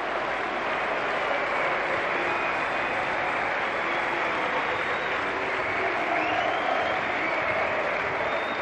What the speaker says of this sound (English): Steve Malbranque finally gives the home crowd something to cheer about.